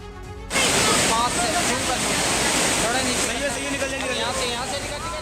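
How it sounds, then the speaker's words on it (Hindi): Floodwater surges through the streets of Dehradun after heavy rain, a loud, continuous roaring rush of water that starts abruptly and holds steady, with faint fluctuating tones in the background. "सड़कों पर पानी का सैलाब है"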